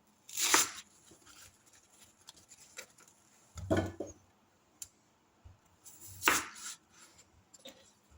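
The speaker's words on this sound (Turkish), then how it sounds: "İndi o biri ərzaqları doğrayıram, hazırlayıram." A knife chops food ingredients, including potato, while a duck dish is being prepared: three sharp, well-spaced chops with faint clicks and handling noises between them, quiet and without speech.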